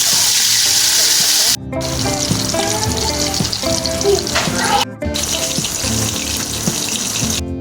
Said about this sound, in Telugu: తర్వాత ఒక్కొక్క చేపను తీసి ఇలా ఆయిల్లో వేసుకోవాలి.